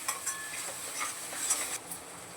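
A spice paste sautéing in oil in a pan while it is stirred, with a steady soft sizzle and light scraping strokes throughout, close and fairly quiet, no talking.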